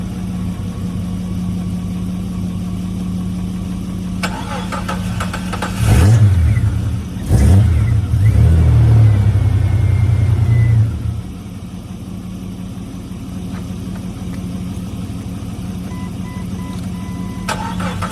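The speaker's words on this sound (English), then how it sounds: "I'm gonna let the Comanche charge the Cherokee for just a hair bit, and then I will give it a shot and start it." A Jeep Cherokee XJ, jump-charged from a running Jeep Comanche, cranks in two short bursts and then catches, running loudly for a few seconds before dropping back. A steady engine idle hums underneath throughout.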